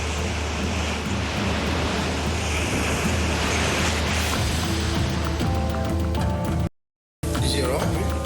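Ocean surf breaking on a beach during a child rescue, loud continuous rushing wash with wind noise on the microphone, building to a crash near the end, with a brief cut and faint voices.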